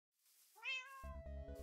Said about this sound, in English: I will tame you, kitty.